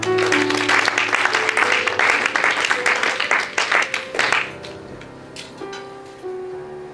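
Church congregation applauding to acclaim God, dense loud clapping for about four seconds that thins out and stops, leaving sustained organ or keyboard tones and faint voices.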